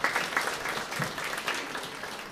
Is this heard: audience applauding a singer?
yes